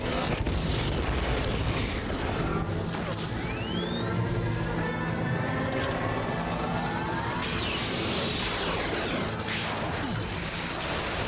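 Sci-fi weapons fire and explosions erupt from two Leviathan living ships in a space battle, heavy continuous booms and crashes with rising whooshing tones layered over a dense rumbling bed, loud throughout.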